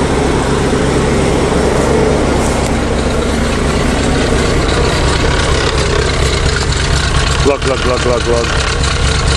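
A Chevy 427 dump truck engine idling with a loud, steady, rough exhaust rumble and a whining fuel pump, continuous and close, while someone talks over it.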